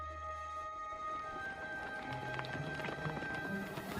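A herd of wild horses in the snowy Altai Mountains runs at a distance, a steady muffled patter of many hooves under a continuous low rumble, with no voices.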